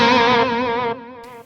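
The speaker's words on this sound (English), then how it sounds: "I've got a delay on the H9, so you hear a bit of delay now" Sustained distorted guitar tone fed through a delay patch on an Eventide H9 pedal routed into an Axe Fx III, the note ringing then stepping down in level as faint repeats trail off and cut out.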